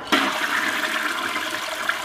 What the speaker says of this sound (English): Flush always in a public restroom before you leave.